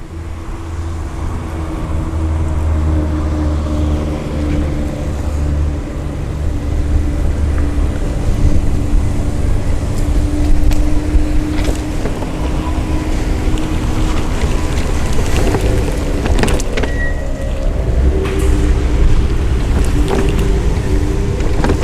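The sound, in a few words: Permobil M3 power wheelchair driving through grass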